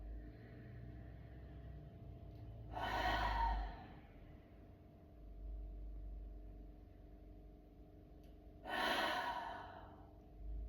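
Forceful breath exhalations during a fierce fire-breath exercise, two distinct rushing outbreaths a few seconds apart over a low background hum.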